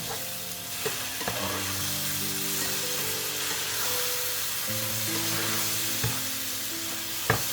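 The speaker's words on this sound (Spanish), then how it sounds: "que se haga bien el tomate, para que se convierta en tomate frito" Tomato fries and is stirred in a pan for a rice dish with Iberian pork and mushrooms, a close, steady sizzle broken by a few scraping stirs, with a faint tonal hum beneath.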